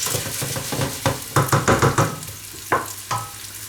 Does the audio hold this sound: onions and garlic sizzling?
yes